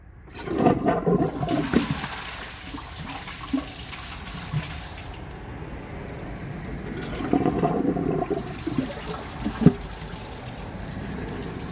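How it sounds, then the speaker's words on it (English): A Glacier Bay high-efficiency toilet flushes with a loud rush and swirl of water that rises twice, first near the start and again later, and a steady trickle of refilling water runs between the two bursts. "No amount of flushes will make that go down."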